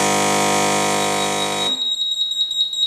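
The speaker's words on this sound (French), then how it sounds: "L'absence de liquide dans la bouteille est signalée par un signal sonore et visuel sur la poignée." Loud, steady electronic warning tone from an Expert Premium steam vacuum signalling an empty detergent bottle, holding for about a second and a half before cutting off, leaving a faint high whine behind.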